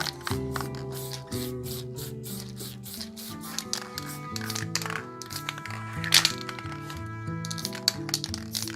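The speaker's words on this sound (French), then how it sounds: "on commence déjà à dessiner nos montagnes à la bombe" An aerosol spray paint can spraying mountain shapes in spray paint art, with a run of short close hissing bursts mixed with crinkly handling noises over soft background music.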